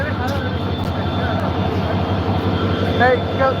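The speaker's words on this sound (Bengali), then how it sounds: "আপনারা দেখতে পাচ্ছেন ট্রেনের ইঞ্জিন" A train engine idling close by, a loud steady low rumble with a continuous drone, people talking over it and a few faint squeaks near the end.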